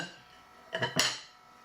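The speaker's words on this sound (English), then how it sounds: "placing all the ingredients in a large microwavable bowl. I'm using a mixing bowl" Ingredients such as cabbage and apples drop into a large mixing bowl, two or three quick close knocks and rustles in the middle of an otherwise quiet moment.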